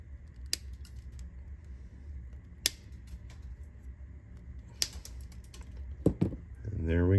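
Trimming a 3D-printed part with cutters makes a few sharp, isolated snips a couple of seconds apart over a quiet background, followed by a brief rustle.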